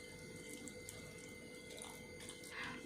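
Water poured into dosa batter for neer dosa, a steady running splash like a tap flowing into a bowl, moderately loud and continuous for the whole moment with no voices.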